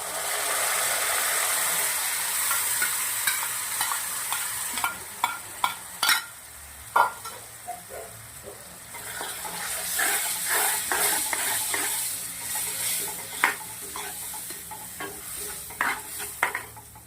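Gram flour and curd are roasted in a pan for Rajasthani lal dahi vaghar. A steady frying hiss runs underneath repeated scraping spatula strokes and knocks against the pan, some loud and sharp, with no talking.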